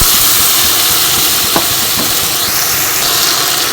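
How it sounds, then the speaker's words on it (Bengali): Mustard-paste water poured into a hot pan of oil with red chilli for a vegetarian kochur loti dish, giving a loud, steady steam-like hiss and sizzle throughout, with no talking. "সেই জলটা অ্যাড করে দিচ্ছি।"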